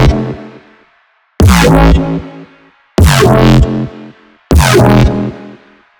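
Four loud bursts of aggressive neurobass synth, each a short growling, modulated drum-and-bass bass note with bright harmonic sweeps, separated by brief gaps, built in Serum.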